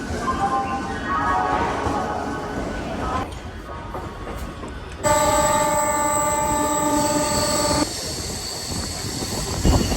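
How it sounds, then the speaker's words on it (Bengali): A Panskura local train pulls out of Howrah station, its engine rumble and wheel noise steady and close, with a long sustained horn blast sounding loudly partway through. "আমাদের ট্রেন হাওড়া স্টেশন থেকে ছেড়ে দিল কিন্তু দেউলটির উদ্দেশ্যে"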